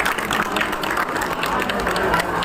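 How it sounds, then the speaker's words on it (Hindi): A crowd at a railway employees' protest sit-in in Lucknow claps to welcome guests, giving dense, continuous applause that stays even throughout, with voices mixed into the noise. "जोरदार तालियों से आप स्वागत कीजिए"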